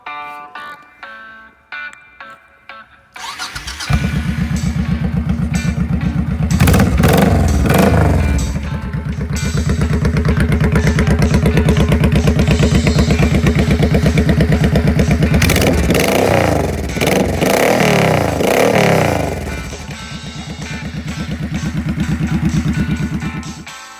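A Honda VT1100 motorcycle engine starts after a few seconds of quiet and runs loud and close, holding a steady idle with several throttle blips and revs throughout.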